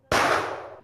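A single gunshot from a firearm at a shooting range: one sharp, loud, close report with a long, decaying ringing tail and no voices.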